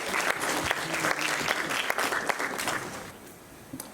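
An audience at a school awards ceremony applauds student leaders with dense, close clapping that holds steady and then tapers off toward the end.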